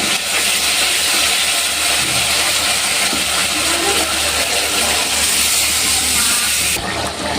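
Mustard paste, turmeric, black cumin and dried red chillies spit in mustard oil for sorshe ilish, a loud, steady, close hiss that runs unbroken before dropping off near the end; nobody speaks.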